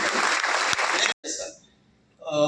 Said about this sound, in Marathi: जोरदार टाळ्या झाला पाहिजे मॅडम